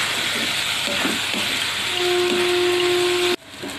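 Bitter gourd frying in a pan gives a continuous close sizzle. A faint tonal whine joins partway through, and the sound drops sharply near the end.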